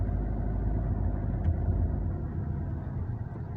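Fiat Linea with a 1.3 Multijet diesel engine running during a test after an oil and filter change, a low, steady idling rumble heard close by without talk.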